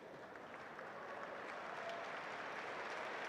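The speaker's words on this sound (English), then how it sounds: "The noise from the crowd is sort of reverberating around everywhere" Crowd noise at Wimbledon with the arena roof closed: a steady, reverberant wash of applause and murmur filling the space, even and continuous with no distinct voices.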